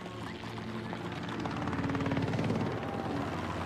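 A helicopter flies during an outback cattle muster, its rotor thumping in a steady fast pulse that grows slightly louder as it nears, with no talk.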